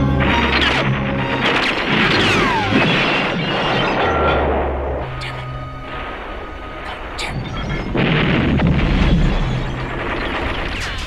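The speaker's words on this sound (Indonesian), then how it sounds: "Rambo meledakkan sebuah toko perlengkapan olahraga" Big explosion tearing through a sporting goods store full of gunpowder and ammunition in a Rambo film, a loud sustained roar of blasts, crashing debris and rumbling booms that swells again near the end.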